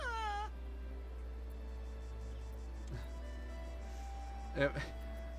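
A cat meows in Baldur's Gate 3, a rising and falling cry near the start, with game voices talking over steady background tones and a brief thump later.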